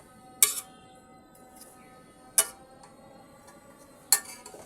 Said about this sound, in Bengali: এবার আমি দুধ এবং লেবুর রসটাকে মিশিয়ে দিচ্ছি